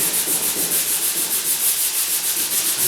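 Sanding a painted door by hand, a steady rhythmic scratchy rubbing with quick repeated back-and-forth strokes, close and loud, with no talking.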